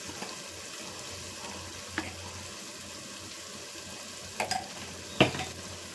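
Mutton masala cooks in a pan under a soft, steady sizzle, with a few brief metallic clinks and scrapes from stirring near the end. The sound is fairly quiet, with no speech.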